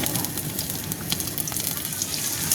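Green chillies and spices crackle and sizzle in a hot pan, a steady close spatter of small pops with no voices.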